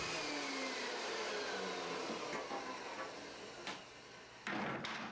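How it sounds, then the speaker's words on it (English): A thickness planer runs 2x3 boards down to 1 inch, giving a steady, dense mechanical roar throughout, with a few heavier knocks near the end. "But first I want to plane down the 3 needed 2x3s to 1 inch."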